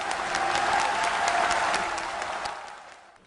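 A large political rally crowd applauds warmly to welcome Roh Moo-hyun, a dense sustained roar of clapping that swells, then gradually fades away toward the end.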